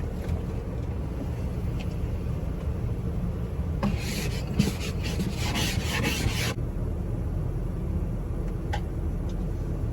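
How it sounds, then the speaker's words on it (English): A snow scraper rasps ice off a car window in one dense burst of close scraping strokes lasting a few seconds, set against a steady low outdoor rumble. "let's go ahead and scrape off the window"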